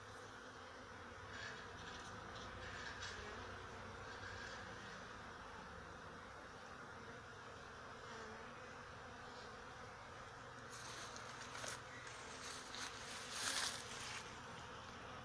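Bees at a beehive make a faint, continuous droning buzz, with a few louder passes near the end over a low background hum.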